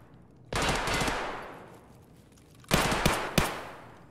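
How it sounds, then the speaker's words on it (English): Gunfire aimed at an enemy in Escape From Tarkov: a loud burst of rapid shots with a long reverberant tail, a pause, then a second volley of a few sharp, close shots. "that's me shooting at a scav"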